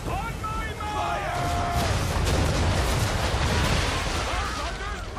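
Ship cannons booming in a naval battle in Assassin's Creed 3, a swelling, sustained roar of cannon fire and explosions over the sea, with shouted voices and creaking timber under the blasts.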